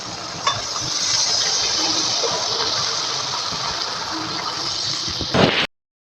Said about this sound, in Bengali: আলু আর লাউটাকে সুন্দরভাবে কষিয়ে নিয়েছি এবং মাছের ঝোলের জন্য জল দিয়ে দেবো